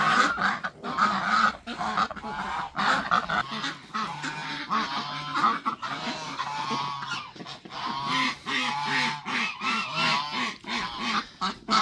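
Geese honk repeatedly and loudly, a busy overlapping chorus of harsh calls with a few quacking ducks mixed in.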